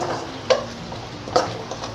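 Spice masala of coriander, cumin, red chilli and black masala powders stirred while frying over a low flame, a soft low sizzle broken by two light spoon scrapes against the pan.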